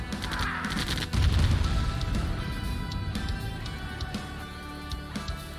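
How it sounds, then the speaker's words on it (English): Machine gun fire in Command & Conquer Remastered aimed at heavy armor, short rapid bursts and sharp cracks over a busy battlefield rumble, with no talk. "Machine gun, machine gun, machine gun, shooting at heavy armor"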